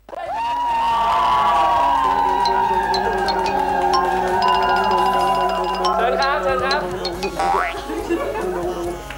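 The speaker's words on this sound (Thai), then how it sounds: "ขอเสียงปรบมือต้อนรับน้องอ๊อฟสุวรรณั" A studio audience roars and cheers in welcome for the guest Off, with loud crowd whoops and shouts building fast and staying high throughout, bright music tones and a rising effect sweeping over the noise.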